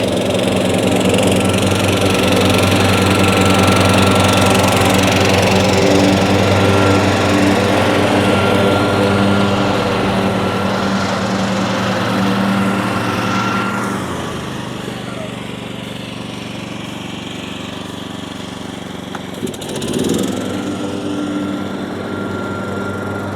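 A small engine runs loudly and steadily like a ride-on mower, then fades and drops to a lower hum, with a brief clatter near the end.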